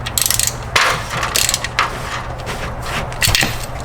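Ratchet clicking in short bursts as it tightens the oil drain plug on a 10th-generation Honda Civic during an oil change, loud and close with brief pauses between strokes.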